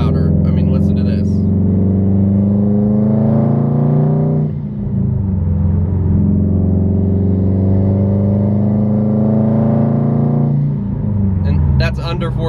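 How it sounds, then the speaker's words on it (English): Subaru STI exhaust fitted with a Nameless muffler delete, revved below 4,000 RPM, a loud deep droning rumble that rises and falls through several revs, close and continuous, with brief talk at the start and end. "the Nameless Muffler Deletes are a lot louder. I mean, listen to this."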